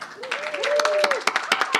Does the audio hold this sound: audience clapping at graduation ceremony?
yes